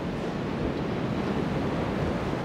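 Sea waves and wind beside a lighthouse form a steady, dense roar of surf with constant wind rush, loud and unbroken throughout with no voices.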